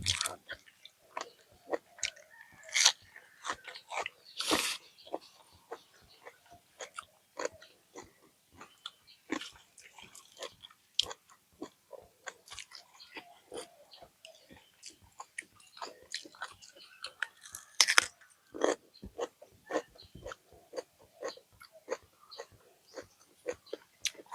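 Crunchy chewing and biting of spicy Thai pounded squid tentacle salad, close and distinct, with a steady run of crisp crackly bites and squishy mouth sounds, no talking.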